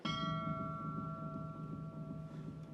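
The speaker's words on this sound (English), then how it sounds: "Not again with those damn bells." A bell strikes once at the start, and its steady ringing tone lingers and slowly fades over a quiet background.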